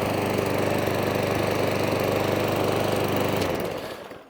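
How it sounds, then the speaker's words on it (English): The petrol engine of a self-propelled Webb 18 SP lawn mower runs loud and steady at close range, then cuts out and winds down into silence near the end. "the mower now runs, stops, starts, does everything it should do"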